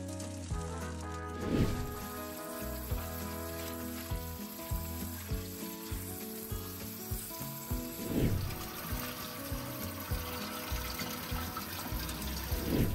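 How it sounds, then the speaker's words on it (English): Clay pebbles and grow media from an indoor hydroponic growing kit being rinsed in water, a steady wet sloshing and running-water wash that continues throughout at moderate level, with no talking. "I then began to wash and clean the included clay pebbles and grow media."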